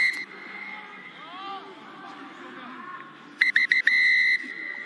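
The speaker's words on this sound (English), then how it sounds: "That is the final whistle." A rugby referee blows the final whistle at a Currie Cup match, several sharp bursts and then a long blast over crowd noise, following a commentator speaking.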